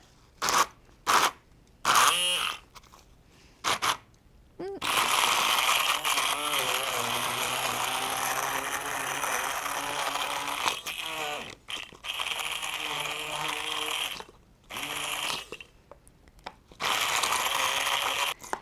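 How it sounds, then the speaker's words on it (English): An immersion blender whirs through a salad dressing with dried fruit pieces, running in short bursts at first and then in longer sustained stretches broken by brief pauses, loud and close. "So now we're going to blend up our dressing with our immersion blender."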